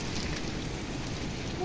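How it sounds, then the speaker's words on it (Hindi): Sudden heavy rain pours down outdoors on a farm with chickens and sheep nearby, a dense, steady broadband hiss that holds at an even level throughout without pause. "बहुत जोर की बारिश होने लगी है अचानक से, बहुत ज्यादा"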